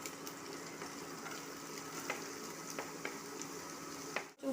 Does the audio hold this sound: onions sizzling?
yes